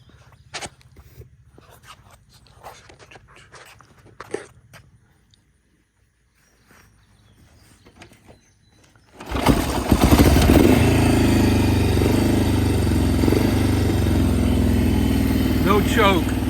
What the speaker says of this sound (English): Give it a little kick. A little cold start video